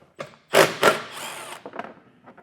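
A tool works a 15mm socket on the license plate bolts of a 2024 Ram 1500 in short mechanical bursts, two loud close whirring spurts followed by a brief higher whine and a few fainter rattling clicks.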